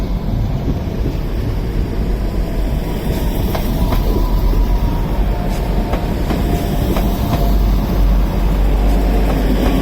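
A Transport for Wales class 175 diesel train departs Crewe on the West Coast Main Line, a loud continuous engine rumble and rolling noise with occasional rail clicks and wind buffeting close by.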